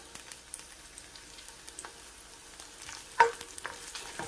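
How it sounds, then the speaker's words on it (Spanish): Onion and garlic fry gently in a little oil, a quiet, soft sizzle with occasional light stirring clicks and one sharper clink of a utensil against the pan. "Ahora aquí tengo poquito aceite y le puse cebolla."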